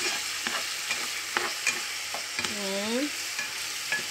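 Pancit canton noodles with soy sauce stirred in a hot pan, a continuous close sizzle broken by soft scraping stirs, while a voice speaks briefly.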